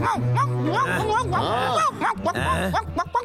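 Cartoon dog yipping and barking in a Bengali-dubbed kids' animated story, quick high yelps and whimpers mixed closely with character voices and background music.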